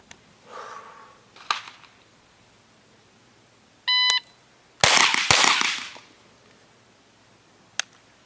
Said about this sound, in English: With the PCC though, I'm going to fire 2 shots.